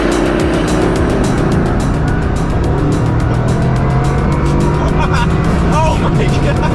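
A Bugatti Chiron Super Sport launches hard from a standstill, its engine note climbing steadily as the car accelerates, loud and close throughout, with excited voices over the roar.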